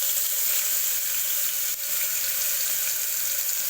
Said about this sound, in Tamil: வெங்காயம் போடுறேங்க.